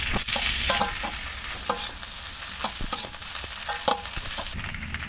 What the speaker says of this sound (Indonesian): pour the cooked rice, then keep stir for a minute